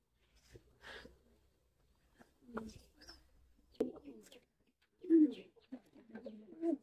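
Pigeons in a pigeon house give soft, low coos in a few short bursts, close and quiet, with gaps of near silence between calls.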